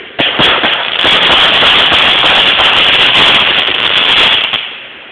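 Rapid string of firecrackers popping loudly and continuously for about four seconds, a dense crackling burst of fireworks set off close by outdoors, ending abruptly.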